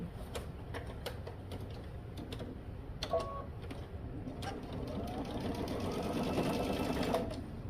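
Sewing machine basting a skirt seam through several layers, including a stay, a ruffle and a godet, running in a steady close mechanical whir with a few ticks and clicks and no talk over it.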